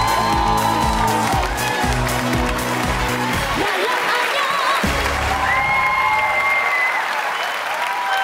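A television studio audience on a Vietnamese variety show claps and applauds loudly for an arriving guest, the clapping dense over bright music stings that cut out partway through, then the applause fades under rising music.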